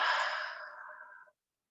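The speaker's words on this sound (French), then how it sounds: "Expire par la bouche." One long, slow exhale through the mouth during yoga breathing, a soft airy rush close to the ear that gradually fades and stops after just over a second, followed by silence.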